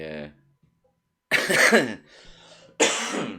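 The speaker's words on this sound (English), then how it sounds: "Vape cough." Two harsh bursts of vape-induced coughing, close and loud, separated by a brief quieter rasp, following a short hum of voice at the start.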